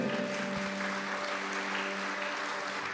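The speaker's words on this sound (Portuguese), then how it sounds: "Vamos aplaudir o Senhor que vem." A church audience applauding, giving a steady, soft wash of clapping that fills the space evenly at a distance, with a faint sustained tone running underneath.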